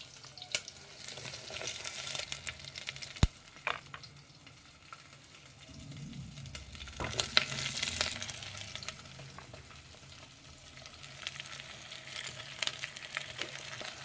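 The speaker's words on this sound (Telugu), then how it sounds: "ఒకసారి మిక్స్ చేసుకోండి ఇది కొంచెం ఫ్రై అయ్యాక" Onions, green chillies, curry leaves and ivy gourd fry in a pan for sambar, a soft quiet sizzle with intermittent stirring scrapes and occasional clinks, louder bursts of sizzle midway, no talking.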